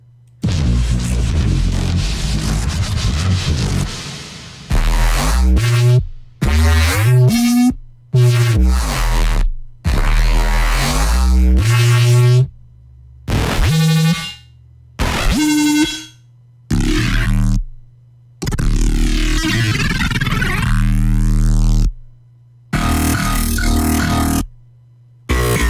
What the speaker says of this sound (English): those were the weird basses that I've created for this song